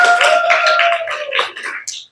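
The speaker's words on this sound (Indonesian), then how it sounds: "Oke, beri tepuk tangan." A school class claps hands together in quick, dense bursts, loud and close, with a steady tone ringing underneath before the clapping trails off and stops.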